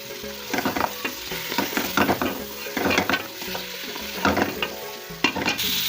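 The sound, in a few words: meat frying with garlic ginger paste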